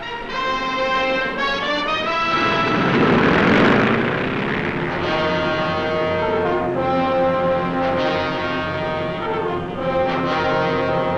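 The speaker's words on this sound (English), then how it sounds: "Over 100 planes rise from the 3 carriers to strike at an imaginary enemy beyond the horizon." Over a hundred carrier planes take off from three aircraft carriers at sea, a loud continuous propeller and engine roar with a swelling surge as aircraft pass close by.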